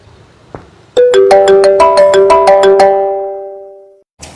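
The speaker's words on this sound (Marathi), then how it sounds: "फोन येऊ राहिला मला" A bright electronic mobile phone ringtone plays a quick repeating chime melody, loud and close, then fades out before a brief click.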